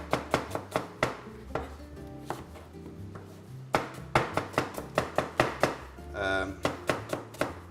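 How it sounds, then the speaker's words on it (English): A knife chopping through onions for a Thai-style Machboos, a quick run of sharp, close knocks on a cutting board, with short pauses and one brief scraping sweep. "I'm going to cut, slice few onions, I think one and a half onion"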